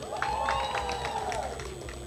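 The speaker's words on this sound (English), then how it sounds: "Clap for them now. Clap loudly for them." A graduation audience at a medical training college claps steadily in a crowded hall, a sustained wash of hand claps and cheering with a voice or music ringing over the top.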